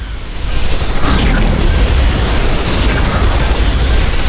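Loud, sustained explosion rumble as a base building is destroyed in the video game The Riftbreaker, with a dense booming roar that holds steady for several seconds.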